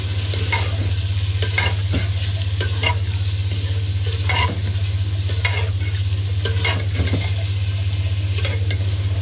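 Meat frying with red chili powder, turmeric and salt in a pan for aloo gosht, giving a steady loud sizzle with repeated scraping stirs of a utensil throughout, no voices.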